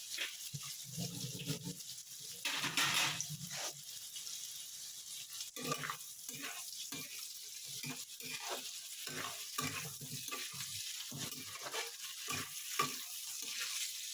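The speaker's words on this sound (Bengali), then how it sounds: "কাজু কিশমিশটা দিয়ে একটু ভাজবো, অল্প ভাজবো, বেশি ভাজবো না" Cashews and raisins lightly frying in a pan for chicken kofta pulao, with soft intermittent sizzling and stirring scrapes, moderately quiet and close, no talking.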